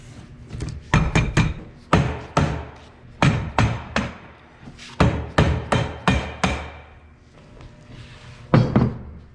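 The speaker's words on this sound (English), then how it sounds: "this is when the hammer comes in handy" A hammer taps metal fishing frame parts together in quick bursts of three to five sharp, loud blows, separated by short pauses, close by with no talk.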